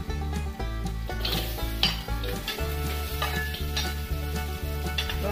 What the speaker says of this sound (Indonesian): Lalu kita masukkan bawang merah.